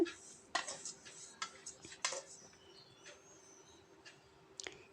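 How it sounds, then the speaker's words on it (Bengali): Lachha semai vermicelli being stirred and fried crisp in a pan, heard as faint, intermittent clinks and scrapes of a utensil against the pan over a low steady background, quiet and close. "মসমসে করে যাতে মসমসে হয়ে যায় একদম লাচ্চা সেমাইটা খুব সুন্দর করে এরকম নাড়ায় নাড়ায় ভেজে নিতে হবে"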